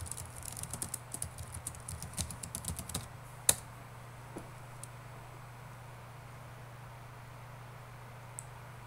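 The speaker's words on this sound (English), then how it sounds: "So, type in your account." Fingers type on a computer keyboard in a quiet room, a quick, faint run of key taps for about three seconds, then a single sharper click and a few scattered taps over low background hum.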